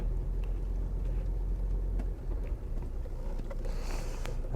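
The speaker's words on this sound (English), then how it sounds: "we've got a lot of build-up of traffic here" Steady road traffic rumbles around a car driving through congested streets in Whitstable, a continuous low engine and tyre drone with passing vehicles, no talk.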